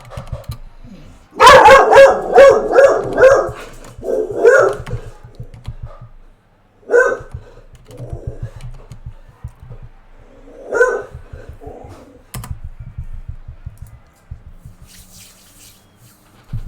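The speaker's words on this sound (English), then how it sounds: "there's my grumpy dog" A grumpy pet dog barks in a burst of several loud, close woofs, then a few more scattered single barks follow, with a faint tap or running water in the background.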